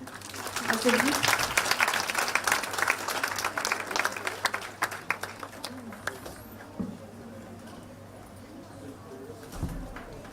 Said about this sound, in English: Please clap for the guests.